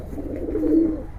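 A restless Giribaj pigeon coos softly in close-up while being handled, a brief low murmuring call that swells in the middle, with faint rustling and no talk.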